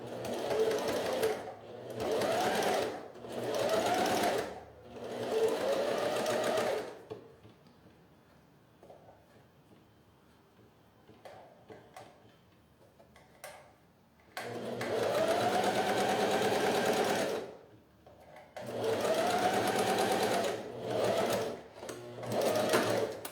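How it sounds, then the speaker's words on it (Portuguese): A domestic sewing machine stitching a fabric jewelry box with a wide stitch, running in loud, steady bursts of a few seconds each, separated by quiet pauses with faint handling. "Ó, vamos encaixar aqui e vou costurar."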